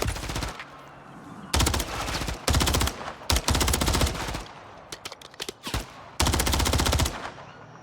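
Gunfire in Call of Duty MW3: several loud, close bursts of rapid automatic fire separated by short pauses and a few single shots, with no talk over it.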